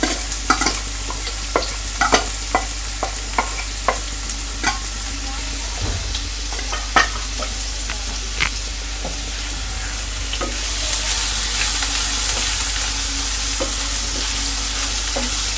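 Chopped onions fry in a pan for egg bhurji with a continuous hiss of sizzling oil, marked early on by a series of evenly spaced spoon taps against the pan, and the sizzle swells slightly near the end.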